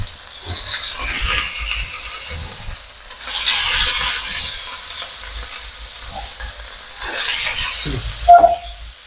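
Fish pieces frying in oil on a flat tawa, a steady close sizzle and crackle with bursts of spattering and a few stirring scrapes, no talk.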